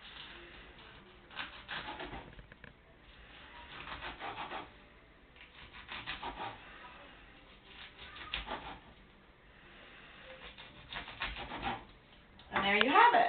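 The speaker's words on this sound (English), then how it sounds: "to cut it and have it all not fall out, the best thing to do is kind of just start your little slices here" A sharp knife slices through a raw vegan sushi roll in a series of soft, rhythmic sawing strokes, quiet and close, with a louder scrape at the end.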